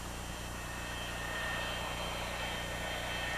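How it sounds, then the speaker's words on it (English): Jeremy the jet plane from the animated Thomas & Friends series flies past with a steady, even engine drone that holds at a constant level for a few seconds, with no voices. "It's Jeremy the plane."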